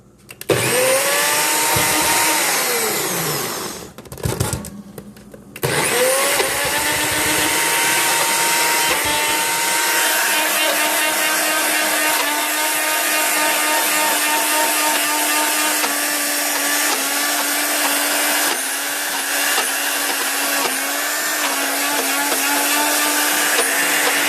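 A food processor grinds peanuts into peanut butter, a loud, steady motor whir with a gritty churning texture that briefly cuts out and restarts, then runs continuously without talk.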